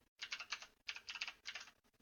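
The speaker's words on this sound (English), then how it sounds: "you would just start typing" Typing on a computer keyboard while entering postcodes: three bursts of rapid, close keystrokes separated by brief pauses, with no talking.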